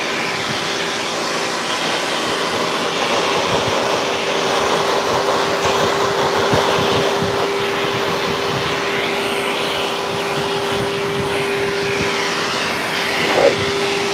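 A pet dryer blasts air over a golden retriever's coat during a full groom, a loud, steady roaring whoosh with a constant hum, running unbroken and close throughout.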